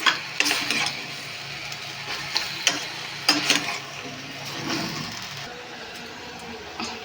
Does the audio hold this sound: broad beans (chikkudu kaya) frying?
yes